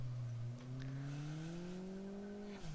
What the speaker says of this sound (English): You can hear that clutch slip as I'm changing gears, because because it's so hot, it can't grip